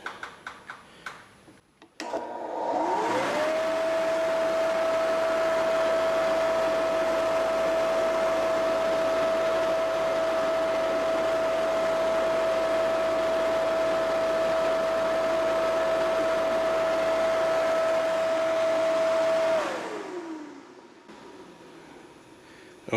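Electric fan blowing air, spinning up to a steady humming whir with a constant tone and airy rush, then winding down after about sixteen seconds.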